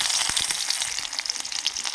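Onions fry in oil with panch phoron in a kadai, giving a steady close sizzle with light crackles and no talking.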